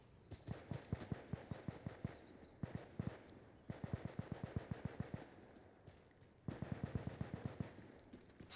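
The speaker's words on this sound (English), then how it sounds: "There's gunfire over there somewhere." Bursts of rapid gunfire crackle in the distance in Insurgency: Sandstorm, several volleys with short pauses between them, faint and somewhat muffled.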